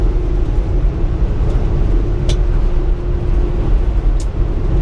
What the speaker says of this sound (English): I'm fighting this fucking wind.